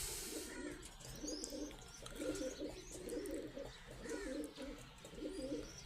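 Pigeons coo in a home pigeon loft, low soft rolling calls repeating in overlapping phrases, fairly faint under steady background hiss, with a few chirps mixed in.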